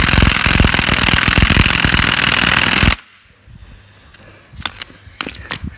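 An air impact gun hammers at a bolt on an accident-damaged Ford Mondeo Mk3, a loud rapid rattling burst for about three seconds that cuts off abruptly, followed by quiet with a few faint clicks and knocks.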